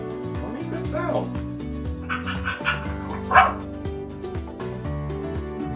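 Dog barking and yipping in an animal-sound guessing game for kids, a few sharp barks over steady background music, with a louder burst near the middle.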